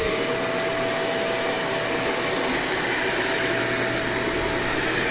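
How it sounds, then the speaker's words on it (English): A vacuum cleaner runs at full power with its rollers spooled up, a loud, constant high-pitched whine and airy roar close by, alone without talk. "I'm going to go ahead and turn the vacuum on. I apologize if this is going to be loud."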